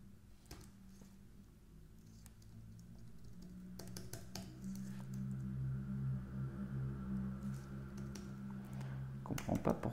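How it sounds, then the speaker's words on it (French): Sparse keystrokes on a computer keyboard tap faintly at first, then a denser patter of clicks builds over a low background hum toward the end, with no talking. "Alors, je réallume mon clavier."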